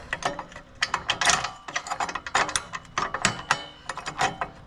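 A hand crank ratchets a mechanism while a new shop sign is raised, giving a steady run of close, loud clicking bursts with no pauses.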